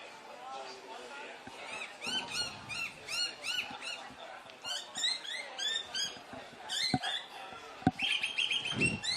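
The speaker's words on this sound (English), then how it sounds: "a little bird has landed on the WA Athletics flag right above us" A small bird chirps and tweets in quick, repeated bursts close by, perched on a flag above a commentary box at the Australian Athletics Championships, while commentators talk underneath.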